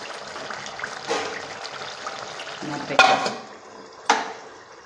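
Chicken curry is stirred in a pan at the end of cooking, giving soft wet sloshing and scraping with a few sharper utensil knocks against the pan, close and fairly quiet, with no talking.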